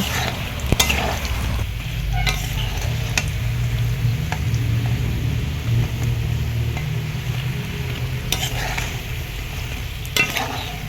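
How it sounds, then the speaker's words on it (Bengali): Fish roe fritters frying in hot oil in a pan, a dense, steady close-up sizzle with occasional clicks and taps as they are turned over. "আমি ভালোভাবে উল্টে পাল্টে আমি আরও ভালোভাবে ভেজে নিচ্ছি"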